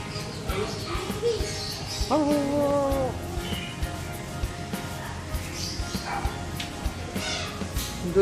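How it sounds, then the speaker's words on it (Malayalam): Several dogs of different breeds bark and yip in a kennel-like setting, a whiny howl-like call standing out in the middle, with scattered yelps over steady background noise. "പല മോഡലിലുള്ള നായ്ക്കൾ."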